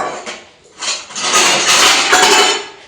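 A metal cooking pot is pulled out from among other kitchen vessels in a home, giving a burst of clattering and clinking that swells and keeps rattling to the end.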